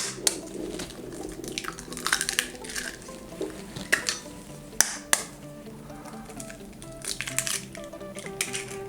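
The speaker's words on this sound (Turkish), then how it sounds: "Üstüne 3 adet yumurta kırıyoruz" Three eggs cracked over 500 grams of curd cheese in a mixing bowl: scattered sharp taps and cracks with soft crunching, close by, over faint music.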